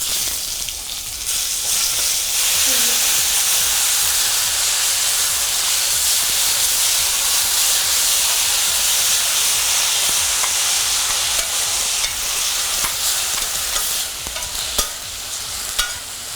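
Masala paste of coriander, cumin and ginger garlic fries in hot oil with a steady, loud broadband sizzle and hiss, stirred continuously throughout, with no voices.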